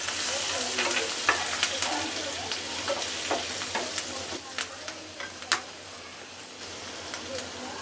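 Chopped garlic and green chillies sizzle in hot oil for chicken Manchurian: close, crackly frying with frequent sharp pops and spatters over a constant hiss.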